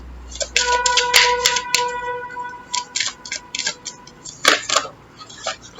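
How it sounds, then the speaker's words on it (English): Crisp, rapid riffling clicks of playing cards being shuffled, in short uneven bursts with pauses between. "so we'll actually shuffle them again."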